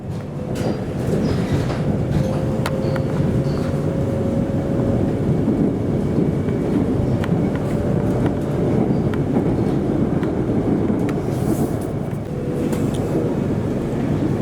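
Interior ride on an HCMT suburban train in Melbourne, running between stations near Huntingdale on the Dandenong line: a steady, loud low rumble of wheels and motors with faint rail clatter and a brief whine, continuous throughout with no talk.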